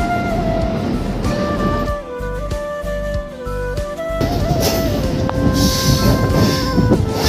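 A Naihati local train runs on the rails toward Garifa station, with a steady loud rumble, clattering wheels and tonal squeals and whines that shift pitch as it moves.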